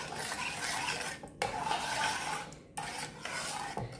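Chocolate cocoa sauce being stirred in a pot while baking an Oreo pudding, a steady close scraping and rubbing of a utensil against the pot, continuous with two brief breaks and no talking.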